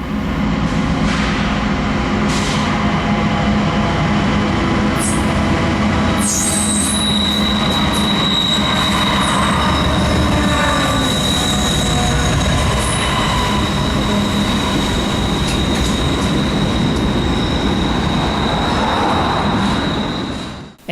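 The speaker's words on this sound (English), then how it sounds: "that train that's coming down the line" A long intermodal freight train, about 8,800 feet, rolls past continuously, with heavy rumbling, clattering wheels and occasional high squeals, loud and close for the whole stretch.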